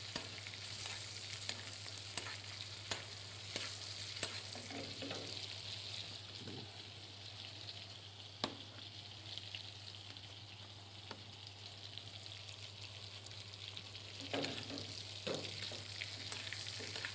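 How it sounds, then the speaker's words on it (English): A breast cooks in a frying pan while butter is spooned over it, giving a faint, steady sizzle with a low hum underneath and scattered soft clicks and taps of a spoon against the pan. No one speaks. "Don't be scared sometimes just to baste the breast."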